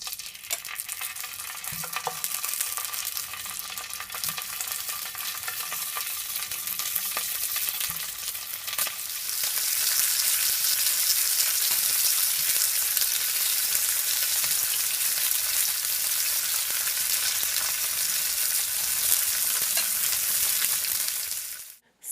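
Smoked chicken sausages browning in a hot pot for a one-pot rice dinner, a steady loud sizzle throughout with occasional stirring scrapes, growing brighter and denser about halfway through.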